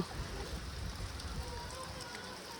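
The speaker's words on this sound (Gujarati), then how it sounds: "કાલ આખી રાતનો વરસાદ અમારે શરૂ જ છે અને જો હજી શરૂ જ છે" Unseasonal rain that has kept falling since the night before hisses down steadily over a cotton field, a faint, even wash of sound without a break.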